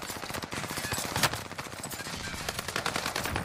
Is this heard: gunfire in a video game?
yes